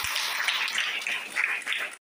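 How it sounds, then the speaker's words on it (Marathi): A prayer-meeting congregation applauds loudly, a thick burst of many hands clapping in pulsing waves that cuts off abruptly near the end. "आपण जोरात टाळ्या वाजवून प्रभू येशूचे आभार मानूया।"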